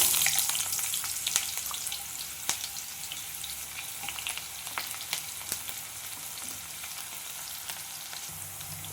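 A large onion sizzles as it fries in hot oil in a home kitchen pan, a steady crackling hiss with scattered sharp pops and occasional stirring, close and fairly quiet with no voices.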